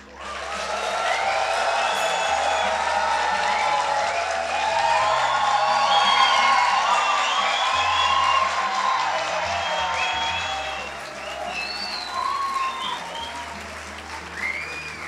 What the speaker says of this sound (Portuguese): Aos nossos educadores, eu peço palmas, muitas palmas.